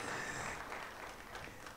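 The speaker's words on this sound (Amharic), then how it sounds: "አጨብጭቡ።" Audience applause at a book launch event: a steady, dense wash of clapping from a crowd, moderately distant and fairly quiet, with no talk over it.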